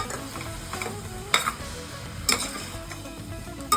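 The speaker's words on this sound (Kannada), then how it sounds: "100 ಗ್ರಾಮ್ ಪನ್ನೀರ್, ಇದನ್ನು ಚೆನ್ನಾಗಿ ಮಿಕ್ಸ್ ಮಾಡ್ಕೊಳ್ಳೋಣ." A paneer palav mixture is stirred in a frying pan over a soft, steady sizzle, with a few sharp utensil clinks against the pan.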